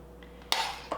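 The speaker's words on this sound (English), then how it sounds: "we're just gonna scoop out our potatoes and cauliflower and get them into the blender" Spoon clinks and scrapes against a pot as cooked potatoes and cauliflower are scooped into a blender. Two sharp knocks stand out over a quiet background.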